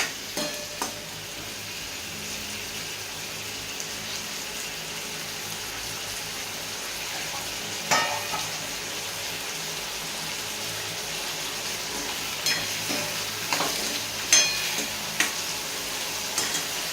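A spoonful of oil sizzles in a pan as sabudana is stirred with roasted peanuts and ground green chilli, giving a steady soft hiss with occasional scraping clicks of the spoon against the pan.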